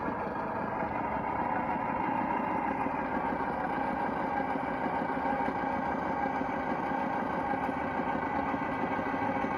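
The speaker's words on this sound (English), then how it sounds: "And all I got to do is just add a little bit of throttle." Brushless electric motor of an HG P802 Oshkosh HEMTT RC truck crawling under light throttle, producing a continuous low mechanical whine and gear hum at an even level throughout.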